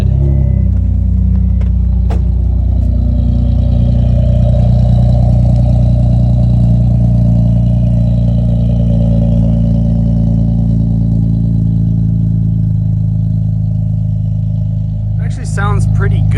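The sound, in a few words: Acura Integra with Skunk2 exhaust on cold start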